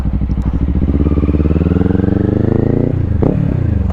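A 2025 Kawasaki Ninja 500 motorcycle engine runs loud and close through a quick U-turn, holding a steady throbbing idle-to-low-rev drone before a brief rev blip near the end.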